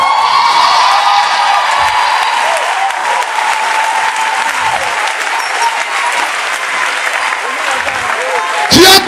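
A church congregation at a French-speaking prophetic service bursts into sustained loud applause and acclaim, dense clapping filling the space for several seconds, with voices and cheers mixed in.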